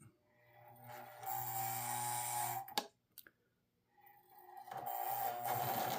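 A model train locomotive motor that has not yet been broken in growls with a steady, buzzing mechanical hum. It runs in two long stretches separated by a brief near-silent gap with a couple of clicks.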